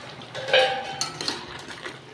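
A lid set onto a cooking pot while vegetables simmer, giving a bright metallic clink near the mic followed by a few lighter rattling taps as it settles, with no talking.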